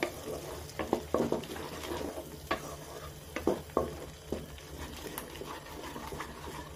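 Coriander, cumin and turmeric powders roast in a pan while being stirred, giving soft scraping strokes and light clatters over a faint low sizzle, close but fairly quiet.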